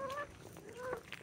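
A chicken calls out nearby with a few short honking, nasal cries over a soft outdoor background at a hillside viewpoint cafe, fairly faint and brief.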